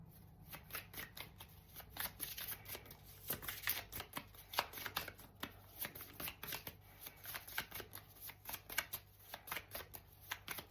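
Tarot cards riffled and shuffled by hand in a steady run of crisp, overlapping flutters and taps, close and fairly quiet, with no talking.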